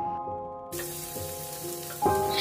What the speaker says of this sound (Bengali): এবারে হাই ফ্লেমে এগুলোকে আমি 1 মিনিটের মতো ভেজে নিলাম।